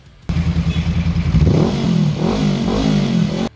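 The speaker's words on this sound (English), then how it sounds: "Honda 471 Liquid-Cooled Parallel Twin." A Honda 471 liquid-cooled parallel-twin motorcycle engine starts up with a sharp burst, then idles with a steady throb before revving up and down several times, loud and close, with no talking.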